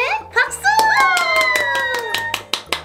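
Several hands clap in a quick, uneven burst, close and loud, while children's voices and bright chirpy tones carry over the top.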